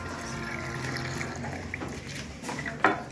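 Water runs steadily from a student-built model water tank powered by a battery at a school science fair, a continuous close trickle with a brief louder splash near the end.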